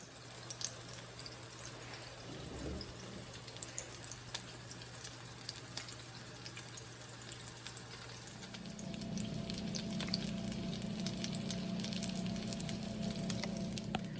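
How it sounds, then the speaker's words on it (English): Turkey burgers fry in hot oil in a pan with a faint, steady sizzle. The sizzle grows louder and denser after a few seconds, with soft crackles and no voices. "I'm gonna see if my oil's hot, and I'll drop them in this pan."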